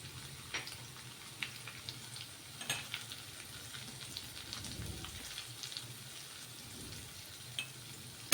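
Hot oil sizzles softly as asafoetida goes into a tempering for a dry vegetable dish, a low steady crackle with scattered small pops and a brief swell of bubbling midway, quiet and close with no talking.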